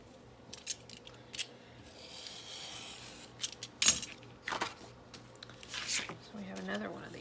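Scissors trim material in a quiet room, giving a few short, soft snips and rustles spread unevenly across the moment, with faint handling noises between cuts.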